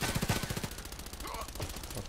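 Pistol gunfire from the video game Contract Wars, with a rapid burst of closely spaced shots at the start, then a quieter stretch with faint game sounds.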